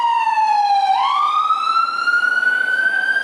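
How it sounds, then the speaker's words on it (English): A loud siren wails continuously, its pitch dipping and then slowly rising as it passes close by, with no talking. "Siren going by."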